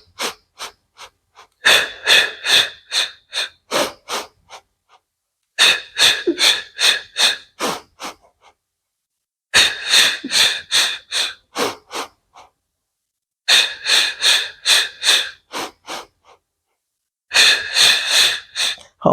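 Rhythmic sharp breathing during a Pilates hundred exercise, close and loud, in bursts of quick puffed breaths with short silent gaps between them.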